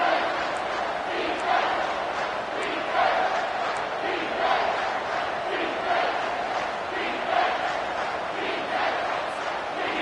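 A football stadium crowd roars steadily through a big third-down play, a dense, continuous wall of cheering and yelling with surges rising and falling but never dropping out.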